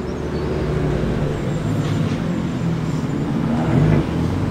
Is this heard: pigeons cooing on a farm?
no